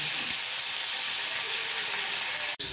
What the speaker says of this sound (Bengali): দিয়ে টমেটোটা একটু ভালো করে নাড়াচাড়া করে ভালো করে ভেজে নেব।